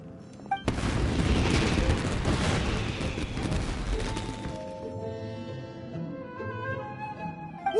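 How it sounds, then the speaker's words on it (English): Fireworks burst in Genshin Impact's Inazuma, a sharp crack followed by a sustained rumbling, crackling barrage of explosions that fades after a few seconds into lingering musical tones. "Yoimiya, this is turning into a bit of a fireworks display."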